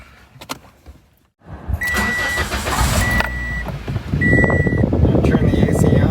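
A 2006 Toyota Corolla, just refilled with A/C refrigerant, cranks and starts nearby, a few beeps sounding as the engine settles into a loud, steady idle after a brief clatter at the start.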